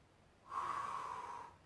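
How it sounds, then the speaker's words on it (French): One long, forceful exhale blown out through the mouth during a Pilates exercise, a close breathy rush lasting about a second amid quiet. "Soufflez bien par la bouche."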